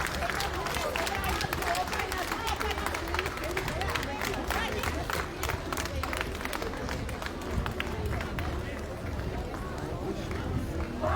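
Crowd applause at a campaign rally in Gyumri, a dense, continuous wash of many hands clapping at steady loudness throughout, with crowd noise mixed in.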